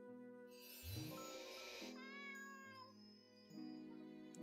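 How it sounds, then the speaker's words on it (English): A hurt kitten in the video game Rave Heart meows repeatedly, giving several drawn-out, wavering, pitch-sliding cries close by, quiet and with no talk. "Poor kitten, you seem hurt."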